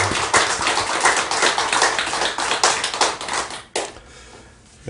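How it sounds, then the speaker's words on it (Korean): An audience applauds during a sermon at a Korean Won Buddhist service, giving dense, steady clapping for about four seconds before it tapers off and fades. "다시 한번 힘찬 박수 부탁합니다"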